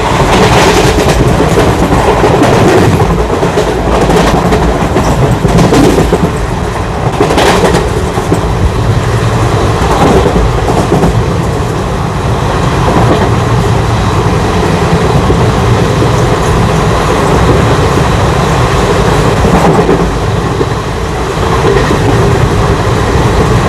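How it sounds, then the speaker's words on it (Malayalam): An ICF-coach Garib Rath Express runs along the track, heard from inside a chair-car coach: a loud, continuous rumble with rhythmic clickety-clack of wheels over rail joints and a metallic rattle, with no talk. "നല്ല ട്രാക്ക് സൗണ്ട് ഉണ്ട് ഇതിന്."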